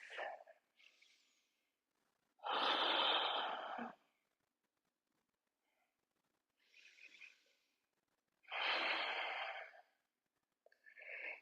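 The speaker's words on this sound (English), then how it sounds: "Finding 2 cycles of steady breath." Steady yoga breathing sounds close and quiet: slow, deliberate inhales and exhales, with two longer, airy breaths standing out between softer, shorter puffs and near-silent pauses.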